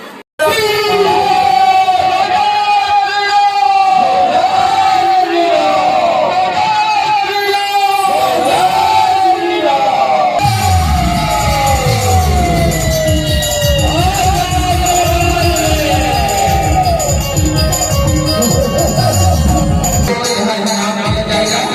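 A large festival crowd at a tableau (jhanki) procession in Chhattisgarh shouts and cheers continuously, loud and close, over blaring music with a heavy rhythmic beat throughout.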